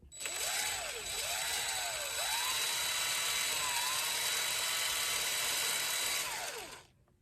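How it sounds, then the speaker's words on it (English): An impact driver spins a bobbin to wind yarn onto a storage bobbin, its loud whining motor wavering in pitch for about six and a half seconds before cutting off. "put it onto the storage bobbin just by using my impact"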